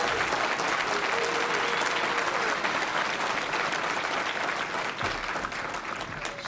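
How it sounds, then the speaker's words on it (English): Graduation commencement ceremony audience gives graduates a warm round of applause, with a dense wash of clapping that holds steady for several seconds. "let's give them a really big round of applause for their hard work"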